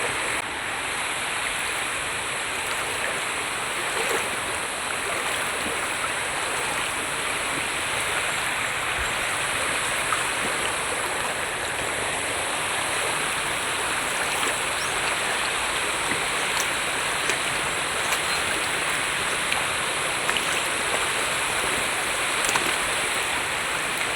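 Water flows steadily over a rocky countryside streambed, a continuous broadband rushing with fine splashing that stays even and close throughout, with no voices.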